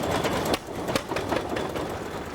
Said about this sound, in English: They're called flywheel engines, the name coming from the heavy flywheels that make them run.